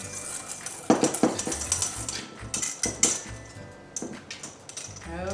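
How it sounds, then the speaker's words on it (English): Peanut butter brownie ingredients mixed in a bowl, with close, irregular clinks and scrapes of a utensil against the dish in short bursts, moderately loud. "I'm mixing that all together."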